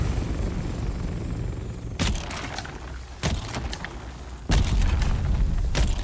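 A spice burst explosion in the Dune survival game set in the cloudy deep desert, heard as several sharp booming bursts over a steady windy rumble.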